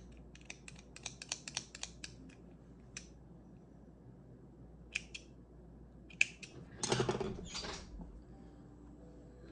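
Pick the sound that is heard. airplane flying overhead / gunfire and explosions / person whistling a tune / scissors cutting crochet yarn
scissors cutting crochet yarn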